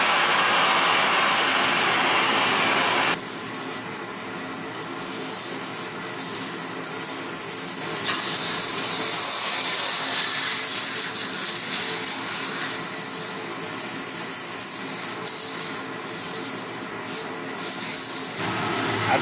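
A gold button and sterling silver melting in a melt dish under a steady, loud, roaring hiss that runs continuously, shifting in tone a few times, with no voices.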